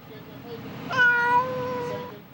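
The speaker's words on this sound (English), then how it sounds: "37 cats and 3 dogs left abandoned in an apartment have been rescued" Meows from cats among several dozen abandoned in an apartment and then rescued: one clear, fairly close meow rises over a noisy room background, with faint voices underneath.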